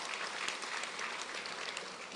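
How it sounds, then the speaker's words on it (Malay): Steady crowd applause at a Barisan Nasional political rally launch for a by-election in Slim, a dense continuous clapping from a large audience that fills the whole stretch without talk. "Berikan tepukan bergemuruh pada mereka."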